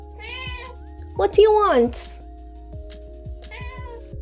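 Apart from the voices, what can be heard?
cat meowing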